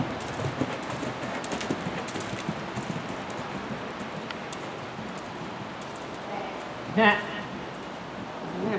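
Horse hoofbeats at a canter, a steady muffled clip-clop rhythm over a continuous outdoor rustle, with a brief louder burst near the end and riders talking nearby.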